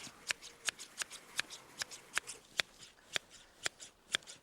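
Garden shears snip a topiary peacock hedge in a steady run of about a dozen crisp, close cuts, spaced roughly evenly and heard alone.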